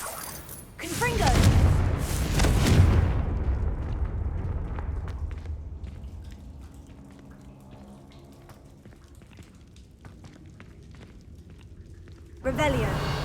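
Confringo fire spell exploding in Hogwarts Legacy, a loud booming blast that rumbles and slowly fades over several seconds before another sharp burst near the end.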